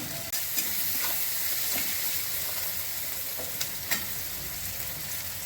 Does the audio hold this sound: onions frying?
yes